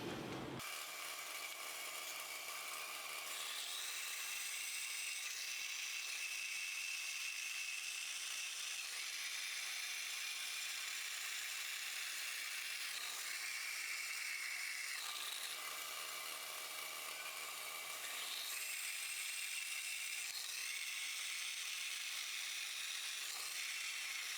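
A bandsaw runs steadily while cutting a metal piece in a blacksmithing shop, giving a constant, fairly quiet high whine with a rasping edge that shifts slightly in tone as the blade works through the stock.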